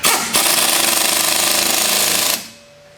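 A power tool, likely an impact wrench, rattles hard and steadily for about two seconds, close and loud, while tightening the rear strut nut during a Honda Civic / Acura Integra rear suspension rebuild, then cuts off sharply.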